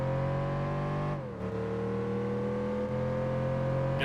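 A car engine in the racing video game Gran Turismo 4 revs loud and close, holding a steady drone, dipping briefly, then climbing again.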